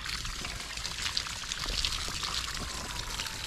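Diluted hydrochloric acid water, used to clean mineral specimens, is poured out onto the ground in a steady, close, splashing stream lasting several seconds, with no talk.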